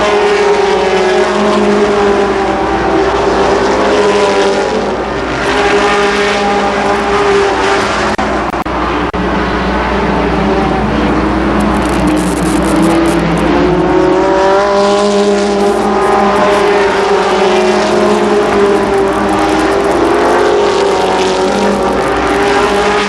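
Sprint cars race at Columbus Motor Speedway, a loud continuous multi-engine roar with engine pitch rising and falling as the cars pass through the laps.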